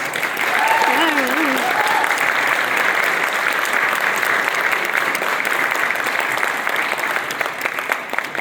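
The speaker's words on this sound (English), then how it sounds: "Let's give another round of applause for our candidates" Sustained applause from a forum audience for congressional candidates at a Democratic candidate event, a dense steady roar of clapping throughout with a voice speaking briefly near the start.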